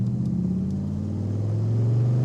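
A 1975 Chevrolet Stingray runs on the road, its engine and exhaust giving a deep, steady rumble that builds slightly toward the end, close and loud with no talk.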